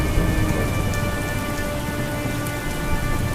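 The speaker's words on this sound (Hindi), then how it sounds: "ये तो काफी तेज बारिश शुरू हो गई।" Heavy rain pounds down in a thunderstorm, a loud dense hiss of drops striking surfaces with deep thunder rumbling underneath, continuous and close with no voices.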